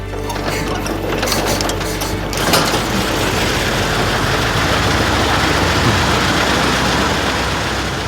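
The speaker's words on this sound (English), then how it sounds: "you will see that even 1908 Laurin Clement BSC would start" A 1908 Laurin & Klement BSC engine cranks and catches, a busy mechanical clatter and rattle that settles into a dense, steady running chatter close by.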